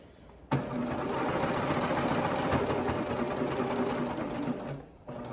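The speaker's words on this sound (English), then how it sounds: "go ahead and run back over and then overlap my serge seam about 1 inch" A serger overlocks back over a leggings seam, starting abruptly and running in one steady, loud, close-up whir with rapid needle chatter for several seconds before stopping briefly near the end.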